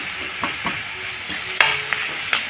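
Onions frying with turmeric in a pan, a steady bright sizzle with a handful of spoon scrapes and taps against the pan.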